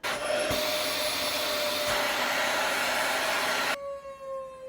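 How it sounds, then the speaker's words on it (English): A vacuum cleaner drones loudly and steadily with a high whine, then cuts off abruptly near the end, leaving a faint tone. "I have to do some Foley recording for sound effects of the vacuum cleaner"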